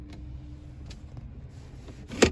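Rear sun shade motor in a Chrysler 300 retracting back up after the car is shifted into drive, a low steady whir under cabin hum, ending with a brief louder clunk as it stops.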